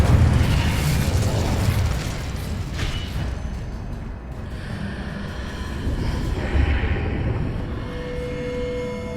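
Incendio fire spell cast in Hogwarts Legacy during combat, a loud sustained roaring whoosh of flame with booming bursts and rumbling game effects throughout, no talking.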